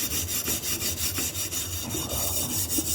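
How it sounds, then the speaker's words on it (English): Rust preventer is scrubbed into a rusty kerosene heater with a brush or pad, making continuous harsh, rhythmic rubbing strokes, close and loud, with no voices. "I'm using that rust preventer to clean basically all the rust that was built up on here."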